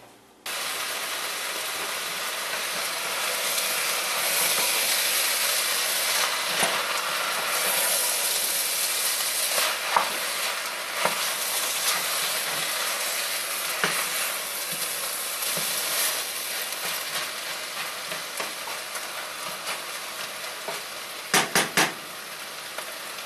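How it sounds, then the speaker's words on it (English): Chicken and vegetables fry in a pot for Japanese curry, producing a steady, close sizzling hiss with scattered clicks and a few utensil clinks near the end. "get a little bit of browning on the chicken."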